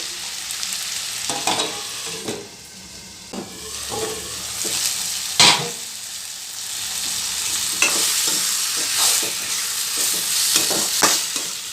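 Chilli fry mixture sizzling steadily on a high flame, a loud broadband hiss from the pan broken by repeated sharp scraping knocks of a spoon stirring, with no voices.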